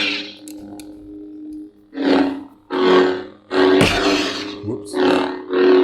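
A KR Sabers lightsaber cycles to another sound font from its auxiliary button, giving a steady electric hum broken by loud, roaring swells and bursts, close up with no voices.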